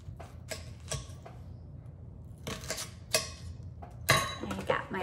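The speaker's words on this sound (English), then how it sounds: "We are going to start by chopping up our onion." Onion being chopped with a small manual chopper tool, giving bursts of sharp clicking, clattering strikes in irregular quick clusters, close and moderately loud, with quiet gaps between the bursts.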